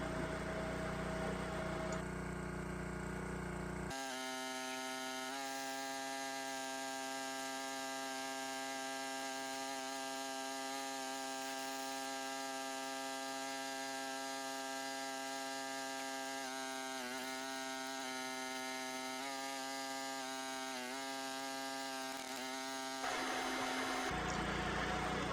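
Champion 27-ton log splitter with GorillaBack working through a big, gnarly piece of wood, giving a steady, droning engine hum with slight dips in pitch as the wedge pushes through. No voices.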